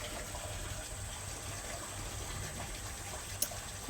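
Water gushes steadily from a single-phase motor-driven pump controlled by a GSM mobile starter, a constant, moderately faint rushing flow with a brief click near the end.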